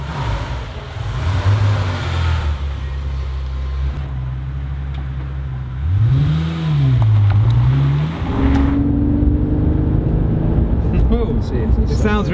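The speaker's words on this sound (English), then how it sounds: "It sounds really nice. I mean, it's so smooth, the engine." A speedboat powered by two Ford Mondeo V6 engines joined end to end as a V12 runs smooth and steady, with a rising and falling rev swell midway, close and loud under someone talking.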